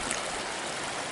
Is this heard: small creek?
yes